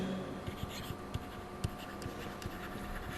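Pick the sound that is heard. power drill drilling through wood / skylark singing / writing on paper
writing on paper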